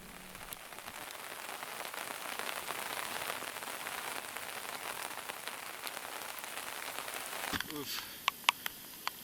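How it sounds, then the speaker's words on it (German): Light rain patters steadily on a surface on a road trip through Siberia along the BAM highway, a soft continuous hiss that ends in a few sharp nearby clicks and knocks. "eigentlich regnet es nicht doll"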